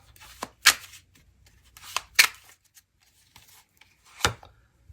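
A tarot card drawn from the deck, giving several soft papery swipes and flicks heard up close in a quiet room, with no talking.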